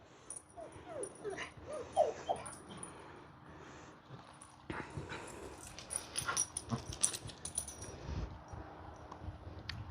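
Dogs whimper, yip and wheeze in bursts while playing indoors, their small cries and scuffling close by and irregular, with a busier flurry in the second half.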